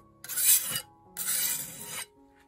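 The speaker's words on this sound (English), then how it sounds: "Scrape off the worst of it" A metal scraper rasps across a glass kiln shelf, knocking off residue in two distinct strokes of harsh, gritty scraping, close and alone, separated by a short pause.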